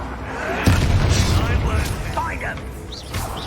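A Bombarda blasting spell exploding in the video game Hogwarts Legacy, a heavy booming blast with crackling debris under shouted voices and game combat noise, loud and close.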